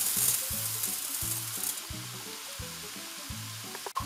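Onion, carrots and coral lentils stirred over the heat in a soup pot, a steady close sizzle with low humming tones underneath and a sharp clack near the end, with no talk.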